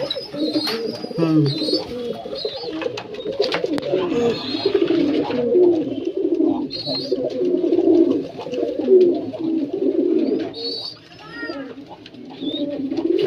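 Pigeons coo in their loft in a continuous chorus of low, throaty, overlapping calls, close by and rising and falling, with a few brief higher chirps and faint human sounds in the background.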